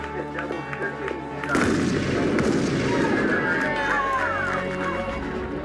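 A gunshot cracks out at a fast draw shooting tournament. It is followed by a sustained roar of crowd noise and cheering, with voices mixed in throughout.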